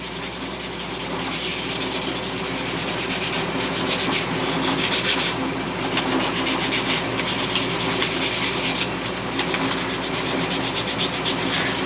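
Filler being hand sanded with 320 grit sandpaper, a steady, close rasping scrub of repeated back-and-forth strokes with brief pauses between passes.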